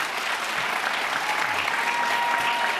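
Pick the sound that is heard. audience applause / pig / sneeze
audience applause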